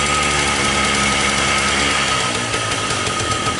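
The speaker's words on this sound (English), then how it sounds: "Fires right up first kick, and it purrs like a kitten." A 1973 Harley Davidson Aermacchi TX125 motorcycle engine idling after a cold start, a loud steady mechanical drone with dense even rumble throughout, close to the bike and with no talk.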